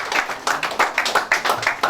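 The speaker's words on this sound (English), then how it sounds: "I think they all deserve a round of applause" A round of clapping at a robotics coding competition finale, a small group's sharp, uneven claps repeating quickly for about two seconds.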